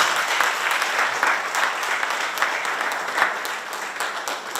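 Sustained applause from an audience at a governor's press event in Bluefield, steady and dense clapping throughout with no talk over it.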